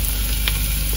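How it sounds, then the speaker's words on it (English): Garlic frying in oil in a home kitchen gives a steady, close hiss and sizzle with a faint clink near the middle. Nobody speaks. "So we got some garlic frying in the oil."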